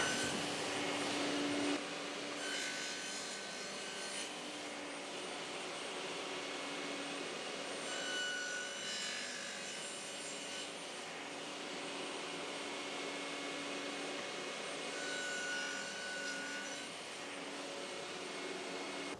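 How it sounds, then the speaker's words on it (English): A small orbital sander works over the edges of wooden end grain coasters, producing a continuous, even whirring drone that runs fairly quietly and steadily for the full length, with no talking. "So just kind of hit them with the little orbital sander, rolled off the edges just to make them nice and soft."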